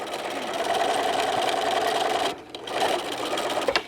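A sewing machine stitches fabric for a curved eyeglass case, a loud, close, continuous whirring run that stops briefly, then starts again for a short burst with a few knocks.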